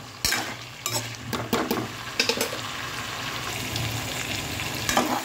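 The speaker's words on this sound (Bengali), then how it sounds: "মিডিয়াম হিটে রেখে 5 থেকে 6 মিনিট আমি চিকেনটা মশলার সাথে একটু কষিয়ে নেব" Chicken sautéing with spices in a pan over medium heat for a chicken akhni pulao, a steady sizzle broken by repeated scraping clatters of a spoon against the pan, no speech.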